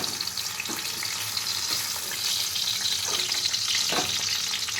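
Pointed gourd (potol) frying in hot oil in a home kitchen gives off a soft, continuous sizzle with faint crackles and light stirring knocks. It stays quiet and close, and no one speaks over it.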